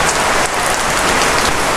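Heavy rain from Typhoon Paeng pours down in Bicol, a dense, steady hiss of drops drumming on surfaces close by, loud and unbroken with no voices.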